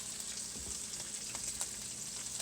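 Ground beef from 80-20 burger and browned onions, with flour added, frying in a pan, a steady close sizzle with light stirring ticks and no talk.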